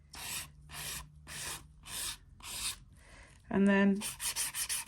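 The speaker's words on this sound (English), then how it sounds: "I do flat of the file across the body like that. I work left to right, keeps it nice and flat." A nail file rasping across an acrylic nail in repeated back-and-forth strokes, close and crisp, with a brief spoken word and a short tonal clatter near the end.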